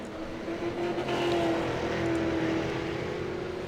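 Race cars run on the Stafford Motor Speedway short track, giving a continuous engine drone with a whining tone that swells and fades slightly in the distance. No one speaks.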